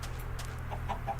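Chickens in a Minecraft-like video game give a few soft clucks in quick succession over a steady low background hum, with no talk.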